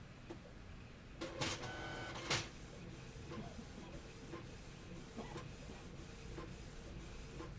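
Home inkjet printer running with a steady mechanical whir and hiss, a couple of brief louder clunks early on, close and moderately loud with no talk.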